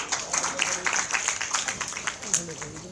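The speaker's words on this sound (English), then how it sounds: "Can you please present a round of applause" An audience at a textiles event applauds in a short, fairly faint burst of scattered clapping, with a speaking voice mixed in beneath.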